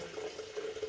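Tap water runs into a cooking pot to be brought to a boil in a home kitchen, a steady close stream lasting about a second with no voices.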